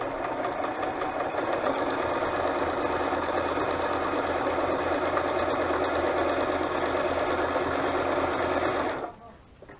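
A sewing machine runs a steady, continuous straight stitch around the edge of a butterfly-themed fabric journal, a loud mechanical whir that holds even for about nine seconds before stopping abruptly.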